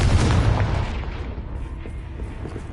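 Confringo explosive spell cast in Hogwarts Legacy, a loud booming blast at the start that rolls into a long rumbling decay with scattered crackles, no talking.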